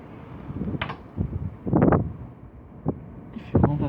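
Strong Storm Dennis winds at Villers-Bocage gust against the microphone in irregular buffeting thumps and rushes, loud and close, with quieter lulls between bursts.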